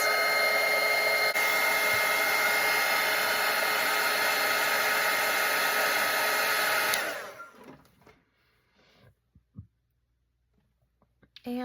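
A hair dryer blows with a loud, steady whine over a watercolor painting with dried masking fluid, then switches off after about seven seconds, leaving faint clicks and handling noises before a voice begins at the very end.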